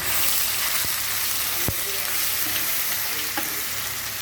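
Ginger garlic paste for chicken korma fries in a hot pan, a loud, unbroken sizzle close up, punctuated by a few sharp utensil knocks.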